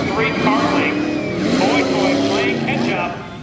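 Tough trucks race around a dirt course at a Monster Power event in Lima, Ohio, engines roaring steadily and revving loudly throughout while an announcer talks over the noise.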